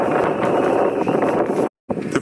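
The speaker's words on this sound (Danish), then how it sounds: "Det blæser rigtig meget i dag" Strong wind buffets a microphone at a harbour, a loud, continuous roaring rush that cuts out briefly near the end before returning.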